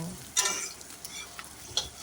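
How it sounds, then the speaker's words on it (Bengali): Onions fry with dried fermented fish (shidol shutki) in a pan with a soft, steady sizzle, broken by a few brief scraping stirs. "পেঁয়াজগুলি এখন আমি ভেজে নেব"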